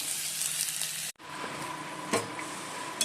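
Egg-dipped toast fries in a hot pan for breakfast, giving a steady crackling sizzle with a brief break and a louder pop of spatter near the end, close by and without speech.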